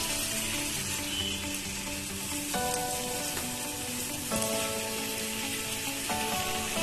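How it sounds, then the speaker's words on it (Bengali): Mutton sizzles steadily as it is stirred and fried in a pan, with a continuous hiss and periodic scraping stirs recurring every couple of seconds. "একটু নেড়ে দেবো মাটন কিন্তু চাপা দিয়ে দিয়ে যত কষানো হয় মাটনের কালার ততটাই সুন্দর আসে"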